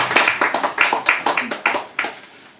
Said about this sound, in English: So please give another round of applause to Kate Potts.